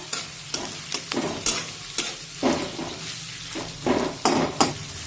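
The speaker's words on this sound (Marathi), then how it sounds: "हा कांदा आपल्याला अगदीच तांबूस रंगावर परतून घ्यायचा नाहीये, फक्त थोडासा मऊ शिजून घ्यायचा आहे।" Sliced onion sautéing in hot oil in a pan for a spiced rice dish, with a continuous sizzle and repeated loud spatula scrapes and clinks against the metal at a steady stirring rhythm.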